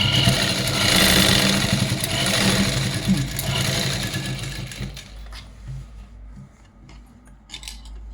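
A sewing machine runs steadily up close with a rapid mechanical clatter while piping a blouse, then slows and fades to quieter intermittent stitching.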